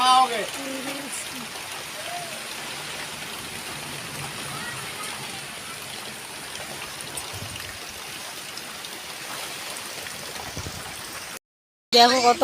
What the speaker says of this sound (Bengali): তাই জন্য দেখো কত বৃষ্টি পড়ছে